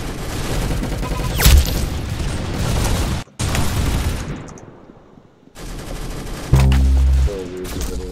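Rapid gunfire from the Roblox shooter game Arsenal, loud bursts and sharp shots with a booming hit near the end, dense and continuous with a brief pause midway.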